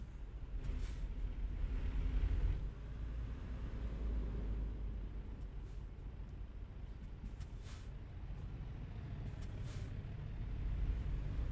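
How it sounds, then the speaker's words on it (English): A truck in American Truck Simulator hisses its air brakes as it halts in a roadside traffic jam, sharp bursts of air released a few times over a low idling engine rumble. "We got a truck stopping here."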